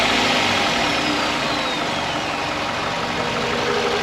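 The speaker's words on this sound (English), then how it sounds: "start the engine and the car should run smoothly." Toyota Camry engine idling steadily right after an ignition coil connector repair, a smooth continuous mid-pitched hum that holds at an even, fairly loud level with no talk over it.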